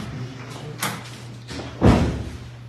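Door being closed in a meeting room during a county board of education session: a soft thud, then a louder closing thump near the end, over steady room hum.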